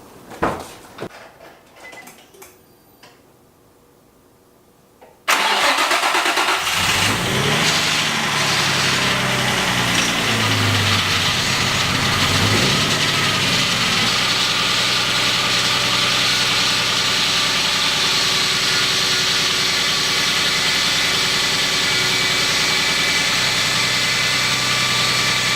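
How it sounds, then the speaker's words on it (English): A Nissan 350Z with a newly installed engine cranks briefly after a few quiet seconds, then catches and settles into a loud, steady idle that runs close and continuous to the end, with slight rpm wavering early on. "This is going to be the first start of the Z."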